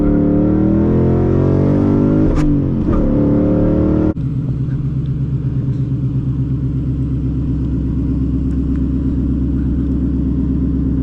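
A 2022 Ford Mustang GT with a six-speed manual revs and accelerates, loud close engine roar climbing in pitch, then a sudden drop at a gear change into a steady, lower droning pull.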